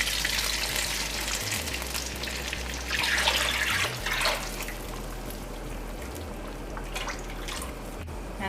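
Halwa mixture hits hot melted ghee in a pot, giving a steady loud sizzle and bubbling hiss that continues throughout, with stirring noises and no talk.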